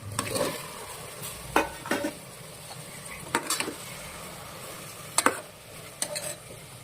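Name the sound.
chopped vegetables added to a frying pan and stirred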